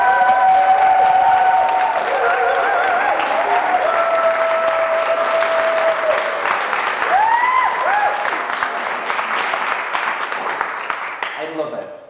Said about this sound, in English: give me the biggest applause that you've ever done in your entire life for James C. Laird, everybody!